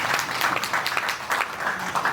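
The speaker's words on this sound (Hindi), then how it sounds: "एक बार जोरदार तालियां बजाएं।" Loud, dense clapping from an audience at a spiritual meditation gathering fills the whole stretch, a steady wash of hands with no voices over it.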